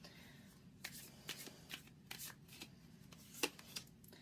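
Tarot cards are shuffled by hand in a quiet room, a series of soft riffling bursts and taps spaced unevenly over a few seconds, close and fairly faint.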